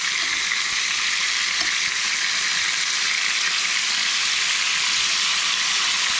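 Crucian carp frying in a pan gives a steady, dense sizzle and crackle of hot oil, close and continuous throughout without pause.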